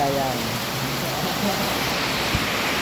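Heavy rain from a storm pours down in a dense, steady roar, with faint voices buried beneath the downpour.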